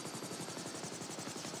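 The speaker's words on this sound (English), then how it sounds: "keep the helicopter safe for me" Helicopter in GTA 5 LSPDFR on a park ranger search and rescue patrol, its rotor chopping in a steady rapid beat with a constant loud engine whine throughout, close and without speech.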